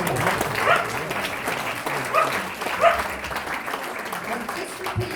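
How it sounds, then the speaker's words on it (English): Audience applause for Eva at a council tax event in Exeter, a steady broadband patter of many hands clapping over about five seconds, with voices and a few dog-like barks mixed in. "Round of applause for Eva."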